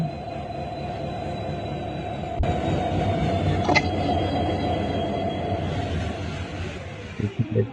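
A train engine in the Train Simulator Bangladesh game drones steadily near Sitakunda railway station, with a sharp click partway through and a few louder thumps toward the end.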